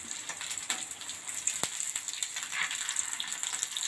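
Sardines (matthi) sizzle and spatter steadily as they fry in oil in a pan, with one sharp click partway through as a fish is flipped over.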